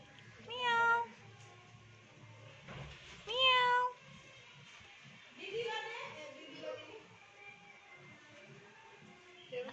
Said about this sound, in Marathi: या तुमच्या मांजरी आहेत